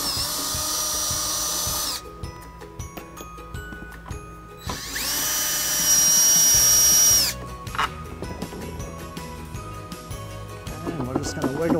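A power driver spins a 10 mm socket to remove the driver's side taillight of a 2011 Jeep Liberty: two loud, sustained whirring bursts separated by quieter ratchet clicks and handling noises, heard up close.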